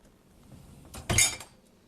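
A single short clatter and clink of dishes being set into the upper rack of a Siemens dishwasher, close and brief against a quiet room.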